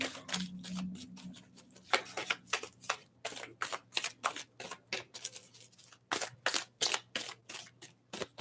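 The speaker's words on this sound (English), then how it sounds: "Give it a quick shuffle." A deck of oracle cards is shuffled close and quietly in a run of quick riffling and tapping bursts, with short pauses between them and no talk.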